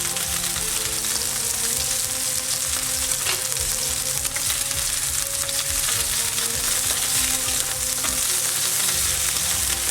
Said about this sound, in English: we're not cooking it all the way through, we're just searing it, giving it some colour, a bit of flavour